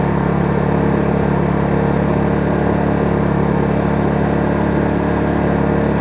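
A Kraft&Dele KD681 inverter generator runs in eco mode, its small engine humming steadily at a low, even pitch, recorded from about 1 metre away, with no voices and no change in speed.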